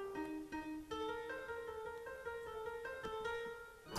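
A music loop at about 163 BPM, pitched down in FL Studio, plays quietly on its own: repeating tonal notes with regular percussive hits in a steady rhythm.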